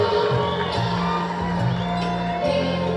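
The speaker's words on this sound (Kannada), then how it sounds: "ಜೋರಾದ ಚಪ್ಪಾಳೆ" A crowd at an election campaign rally with the Chief Minister, a continuous loud roar of clapping and cheering with shouts mixed in, sustained and dense throughout.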